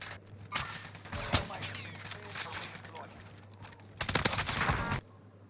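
Gunfire in a video game: scattered sharp shots, then a dense burst of rapid fire near the end, with people talking over it.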